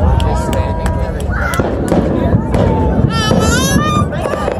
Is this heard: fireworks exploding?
yes